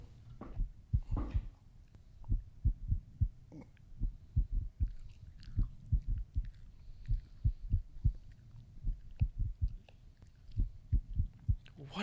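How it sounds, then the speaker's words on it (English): A rapid, pounding heartbeat in the horror game Wrong Floor thumps in low, steady pulses that run throughout, while faint speech-like murmurs and small noises come and go over it. "Why is my heart pounding?"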